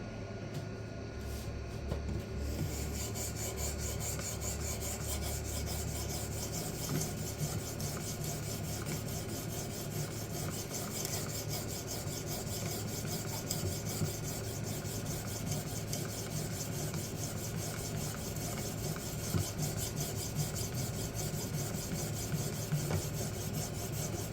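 Blade being sharpened on a Ruixin resin bonded diamond stone, a continuous close rasping rub with a steady back-and-forth grinding texture throughout, no talking.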